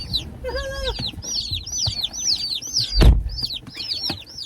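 Many small chicks peep constantly in high, rising chirps inside a shipping box, close and busy, with a soft thump and rustle partway through.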